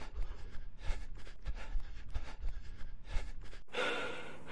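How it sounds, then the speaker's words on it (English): Heavy, rhythmic breathing from exhaustion while running, a video game sound effect made in Unreal Engine, with repeated sharp, raspy inhales and exhales up close, ending in a soft sustained hiss. "If we continue running, it should go to heavy breathing."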